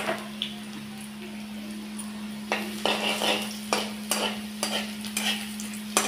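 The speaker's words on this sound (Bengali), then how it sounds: "এইবার আমি এখানে এই রসুনগুলো যে থেতো করেছিলাম সেটাই আমি ফোড়নে দিয়ে দিচ্ছি" Crushed garlic sizzles in hot oil in a pan, a steady fry with bursts of louder crackle and spoon-stirring scrapes up close, and no talking.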